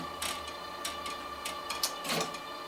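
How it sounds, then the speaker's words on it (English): Screws loosened on a LAB500 card labelling machine give a quick series of small metallic clicks and ratcheting ticks, close and fairly quiet, with no talking. "just open these 2 screws"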